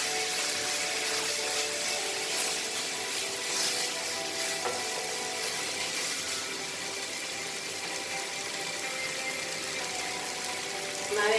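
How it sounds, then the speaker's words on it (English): A pan of Goan-style fish fried rice sizzles steadily and loudly as vinegar goes in, a continuous hissing fry with faint stirring scrapes and no talking. "Now I am adding vinegar. Again 1 tablespoon of vinegar."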